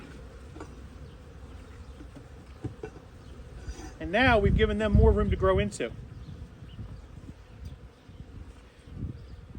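Honey bees buzz in a loud close swarm for a couple of seconds around a hive as its lid is replaced, rising and falling, with a person speaking just before and a low hum around it.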